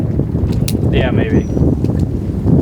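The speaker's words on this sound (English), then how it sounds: "Let the wind die down. It's too windy." Wind blows outdoors near a house, a continuous low rushing roar across the microphone with brief talk over it.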